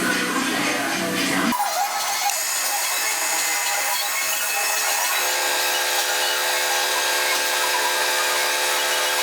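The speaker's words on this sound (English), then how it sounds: "What I'm going to do is obviously drill a hole and tap this hole" A power drill bores a hole in a metal flywheel part for an oscillating steam engine: a brief rough grinding start, then a sustained high, tonal whine that runs on steadily without speech.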